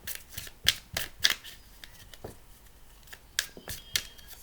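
Tarot cards are shuffled by hand in quick, soft riffles and taps, several crisp slapping bursts spaced irregularly over a few seconds, fairly quiet and close, with no talking.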